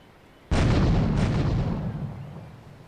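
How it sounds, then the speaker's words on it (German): Grenade blasts from Grand Theft Auto III: a sudden loud, close explosion with a second burst right after, both fading into a long rumbling decay, with no talk. "Komm schon, irgendeine Granate muss doch mal dort landen."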